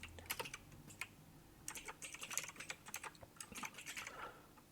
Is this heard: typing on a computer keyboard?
yes